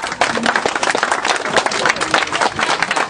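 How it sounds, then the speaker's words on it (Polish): Loud, dense applause from a crowd at a dragon boat race final and award ceremony in Malbork, steady clapping filling the room without a break. "Gromkie brawa."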